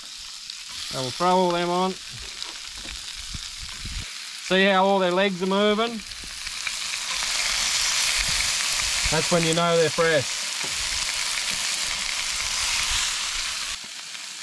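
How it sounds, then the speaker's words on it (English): Blueclaw crayfish sizzling loudly and steadily in a hot frying pan, the broad hiss building and holding through most of the stretch while someone talks over it in short bursts. "as you can hear that sizzling straight away, that's when you know you got it hot enough"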